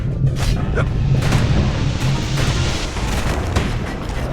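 Guns on a security skiff fire in the Bastion video game: steady booming gunfire and a dense low rumble fill the whole stretch, with a voice talking over the top.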